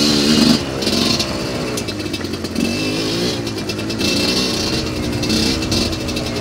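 Dirt bike re-jetted from a 135 to a 160 main jet and fitted with a Gen 3 exhaust pipe, revving loudly and steadily close by at an ORV park, a raspy two-stroke-style drone with small rises and falls and no talk.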